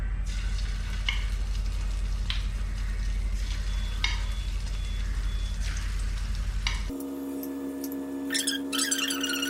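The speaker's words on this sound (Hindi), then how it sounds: "अब इसको लाइट ब्राउन होने तक फ्राई करेंगे।" Chicken pieces for chicken Manchurian deep frying in hot oil, a steady close sizzle and crackle lasting several seconds before the sound cuts to a different, quieter texture near the end.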